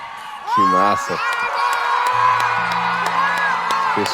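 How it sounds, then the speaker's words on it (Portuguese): Live concert audience for a singer's performance, a crowd roaring with cheers and whoops as people stand, loud and sustained under a voice talking over it. "Pessoal aplaudindo aí de pé"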